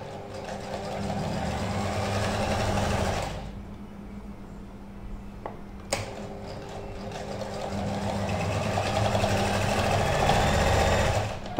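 A sewing machine stitches a shirt pocket seam with a steady, loud whirring rattle, pausing briefly in the middle before running continuously again close up.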